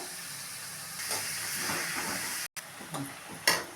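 Onions and mustard seeds sizzle in hot oil for a South Indian masala kadambam kuzhambu, a steady loud hiss with a brief dropout and some spattering pops near the end.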